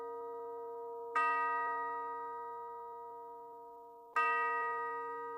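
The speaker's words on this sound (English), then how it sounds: "As he did so, clear and sweet, rang out 10 bell-like chimes." Two clear, sweet bell-like chimes strike in sequence, each with a sharp onset and a long ringing decay, from a clock in a house; the second follows about three seconds after the first.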